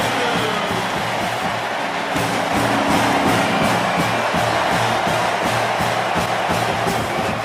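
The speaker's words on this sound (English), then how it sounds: "This crowd is pumped up." A packed Autzen Stadium crowd roars after an Oregon touchdown against Boise State in a 2024 college football game, a dense, steady wall of cheering that holds loud and unbroken throughout.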